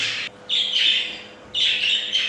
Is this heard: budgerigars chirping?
yes